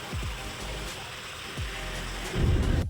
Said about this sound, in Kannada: ಮಳೆ ಬರ್ತಿತ್ತು.